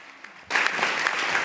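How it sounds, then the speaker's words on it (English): Applause at a film press conference breaks out suddenly after a quiet moment, then continues as a loud, even patter of many clapping hands. "A big round of applause for these three gentlemen"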